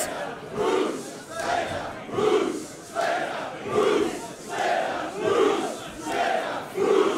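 A wrestling crowd chants rhythmically in support of Moose and Slater, loud, swelling shouts repeating roughly every second across the arena, each surge rising and falling in steady unison.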